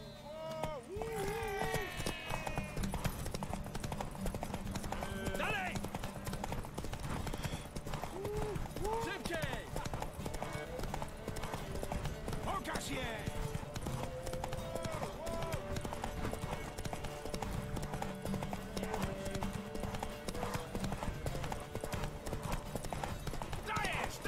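Horses galloping in a race in The Witcher 3, a continuous rhythmic clip-clop of hooves mixed with a neigh, under game music and voices talking throughout.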